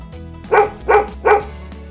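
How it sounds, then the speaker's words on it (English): A dog barks three times in an even rhythm, close and clear, each bark short and sharp, with no talking over it. "Right again, it's a dog."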